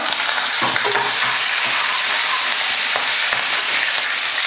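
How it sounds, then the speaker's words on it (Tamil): Steady oil sizzle of lentils and chopped green chillies frying, with occasional scraping stirs of a spatula, close and continuous, no voices. "பருப்பெல்லாம் நல்லா வறுந்து வந்துடுச்சு."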